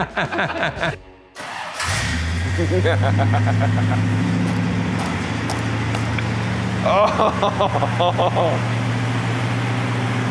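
A 1974 Ford Pinto Wagon engine starts and settles into a loud, steady idle with a deep rumble, while a person briefly exclaims over it.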